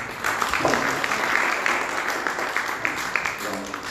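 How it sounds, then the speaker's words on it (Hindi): A church congregation at a Mother's Day service breaks into sustained applause, dense clapping filling the hall at a steady level for the whole stretch. "आइए एक बार फिर ताली बजाते हैं।"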